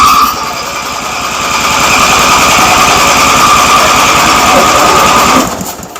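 A small low-compression engine fed brake cleaner catches and runs at a fast, buzzing, steady pitch close by for several seconds, then cuts off abruptly near the end.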